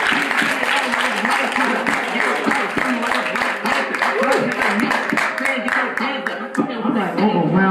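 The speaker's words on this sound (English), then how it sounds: "one more round of applause for Diamond Kitchen," Audience applause at a heritage house event honoring African American history, a dense sustained clapping crowd with chuckles and voices mixed in, steady and close throughout.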